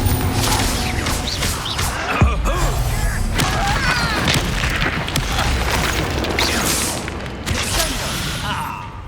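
Confringo explosive spell in Hogwarts Legacy, loud booming blasts and crashing debris amid dense combat noise, a sharp impact standing out early, with a voice speaking briefly beneath.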